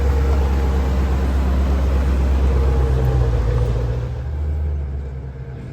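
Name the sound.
car driving on road during test drive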